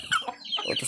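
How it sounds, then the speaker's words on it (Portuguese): A young male chicken, a cockerel, gives a few quick clucks, close by and moderately loud, each call a short rising-then-falling note in a rapid burst. "Outro frango macho."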